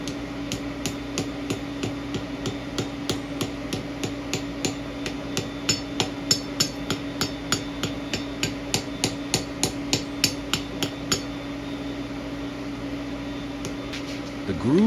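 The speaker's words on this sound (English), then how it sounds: "The tube is forged oval on a 140-degree bottom die to near final form." Rapid, regular hammer blows forge a round steel tube oval on a 140-degree bottom die, around thirty sharp metallic strikes in a steady rhythm over a constant mechanical hum, stopping near the end.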